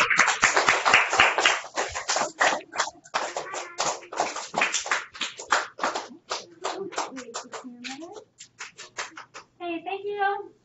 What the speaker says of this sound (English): Clap up